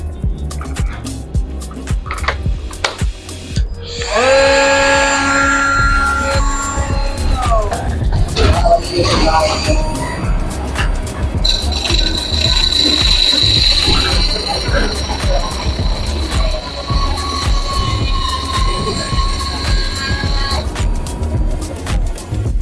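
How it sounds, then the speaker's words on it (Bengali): A TOTAL cordless 3-inch grinder cutting through iron: a high, shrill whine that rises and wavers as the disc bites, with scraping metallic grinding beneath and a steady motor hum throughout, loud and close. "আমরা কিভাবে আমাদের 3 ইঞ্চি গ্রাইন্ডিং মেশিন বা কাট অফ টুলস দিয়ে খুব সহজে একটি লোহা কাটলাম"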